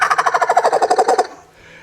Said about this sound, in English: a rolling feed call, like you guys that love to duck hunt